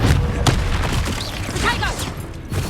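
Explosive Confringo and Bombarda spell blasts in a Harry Potter-style video game: a dense, continuous roar with booming thumps and sharp impacts, loud and close throughout, with a whooshing sweep near the end.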